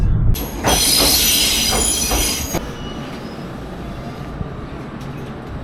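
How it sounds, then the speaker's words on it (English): A train rolls past with a loud metallic squeal of wheels that lasts a couple of seconds, then fades into a lower steady rumble. "This train takes about just under an hour"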